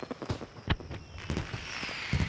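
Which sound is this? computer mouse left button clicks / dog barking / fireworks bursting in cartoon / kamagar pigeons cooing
fireworks bursting in cartoon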